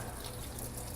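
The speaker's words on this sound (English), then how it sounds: "First thing you always want to do is rinse it with hot water." Hot water gushes steadily from a tap to rinse a cloth, a continuous broadband splashing stream heard close up with no voices.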